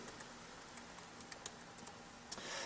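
Soft, irregular keyboard clicks tapping away at a steady pace, quiet and close, with a faint background hiss.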